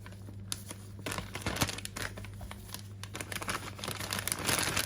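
A plastic food bag crinkles and rustles as pieces of dough for Moroccan chebakia are packed into it, with irregular close bursts of crackling.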